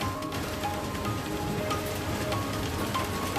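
Unseasonal rain with hail pours down in a steady, dense hiss of drops striking surfaces, continuous and even, with faint scattered taps and no voices.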